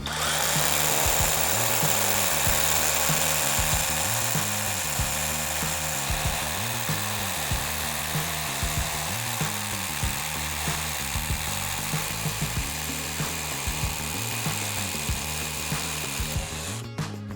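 A Dnipro-M DHR-202BC rotary hammer drills with a 10 mm bit, hammering loudly and steadily with a fast, even rhythm of impacts for the whole stretch, close and alone, with no talk.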